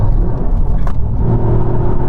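A Toyota GR Yaris engine is pushed hard in fifth gear on a track, a loud, steady close-up roar and rumble that holds throughout with no break.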